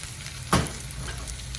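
Garlic, mushrooms and other vegetables sauté in a hot pan, a steady close sizzle punctuated by one short scraping stir burst.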